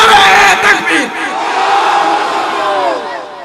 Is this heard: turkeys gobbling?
no